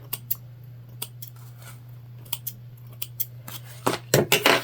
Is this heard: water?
no